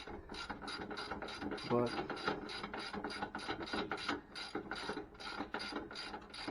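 Ratchet tightening a nut on a 2008 Ford Mustang shock absorber, giving a steady run of rapid, close clicks that continue throughout, with a brief spoken word partway through.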